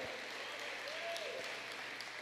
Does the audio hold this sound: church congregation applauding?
yes